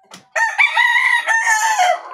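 A rooster crows loudly and close by, one long drawn-out call after a brief faint chirp.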